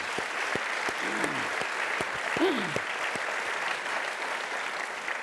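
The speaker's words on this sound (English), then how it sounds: "And we should clap for that" An audience at a business talk breaks into steady applause, a moderate, continuous clatter of many hands. Brief voices come and go underneath as the clapping carries on.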